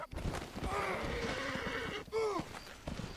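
A horse in the Western video game Red Dead Redemption whinnies and snorts in a short, close burst, with a rising neigh near the end and faint game ambience underneath.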